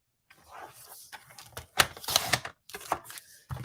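Card stock for a card base being cut on a paper trimmer, a few sharp close clacks and a sliding cut in short bursts with quiet gaps, no talk.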